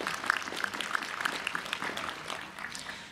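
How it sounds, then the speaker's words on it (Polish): Applause from an audience at a Polish book launch in a hall, a steady patter of clapping hands across the whole stretch, fairly distant and moderately loud. "także myślę, że i dla pana Dziedziczaka również brawa"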